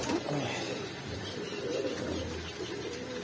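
Strong pigeons of the Mamdeen breed in Pakistan, giving soft low coos under a steady murmur of background noise, near and fairly quiet.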